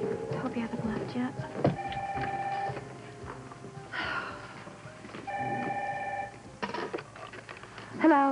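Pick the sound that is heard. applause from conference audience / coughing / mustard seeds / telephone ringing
telephone ringing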